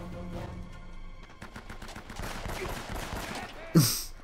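Rapid gunfire from an AK-47 in the video game Uncharted: Drake's Fortune, quick bursts of shots cracking in a fast irregular rhythm, ending in one sharper, louder blast.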